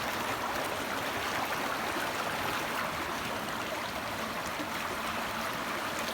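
A rain-swollen stream rushes fast past the listener, a constant close wash of flowing water with gurgling texture and no voices over it.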